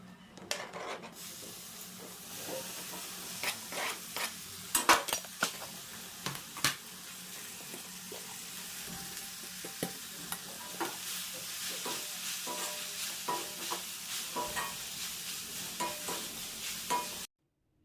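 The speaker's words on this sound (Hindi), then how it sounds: "उसके बाद धीरे धीरे इनको भूंज लें" Dry spices including turmeric slowly roasting in a pan for a spinach dish, a soft sizzle beneath frequent scraping and tapping of a spoon against the pan, fairly quiet and close, ending abruptly; no talking.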